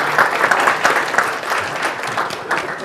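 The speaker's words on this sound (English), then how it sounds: "Let's hear it for Harlan" Steady applause from a studio audience fills the moment, an even wash of many clapping hands with no talk over it.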